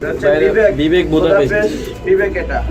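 Pigeons cooing at a pigeon farm, several close, soft rolling coos that overlap in a steady murmur.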